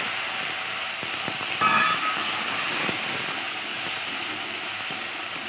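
Potatoes tipped into hot oil tempered with cumin and dried chilli, a broad continuous hiss and sizzle with a brief louder flare near the start, steady and close with faint clinks.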